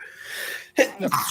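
One sharp sneeze comes after a short breathy intake and is followed by a brief second burst, close and loud, with no speech.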